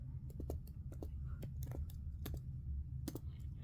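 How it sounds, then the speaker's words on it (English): Typing on the keyboard of a Dell Inspiron 5566 laptop: a quick series of sharp key clicks in an irregular rhythm, close and fairly quiet over a steady low hum. "I'll just type that in"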